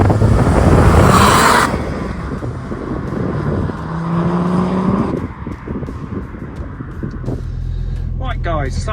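A BTCC Supertourer Volvo 850 replica race car pulls away for a short drive, its engine loud and close at first, then settling to a steady drone with wind buffeting the microphone.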